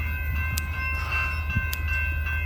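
Amtrak San Joaquin train 716 bound for Bakersfield approaches with its cab car leading, a steady low rumble with a faint ringing tone above and a few brief clicks at a park beside the line.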